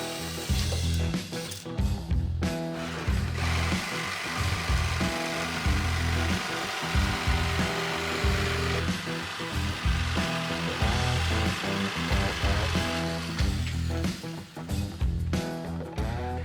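A jigsaw cuts a circle out of a wood piece for a vintage fly press restoration, a loud, continuous buzzing rasp up close that wavers in pitch as the blade follows the curve, with brief dips near the end.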